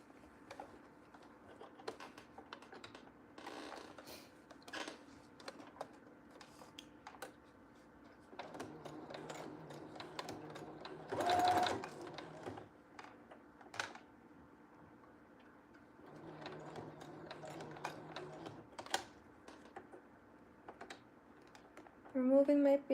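Sewing machine stitching and backstitching an elastic band, with bursts of rapid ticking mechanical clatter that start and stop, quiet and close, and a voice talking intermittently in between.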